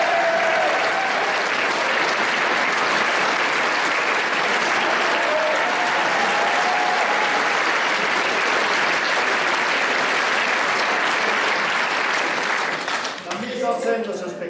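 A theatre audience applauds steadily and loudly for about thirteen seconds of dense, continuous clapping, with a few voices calling out, before the applause thins and dies away at the end.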